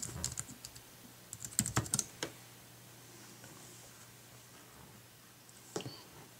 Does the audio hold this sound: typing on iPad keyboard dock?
yes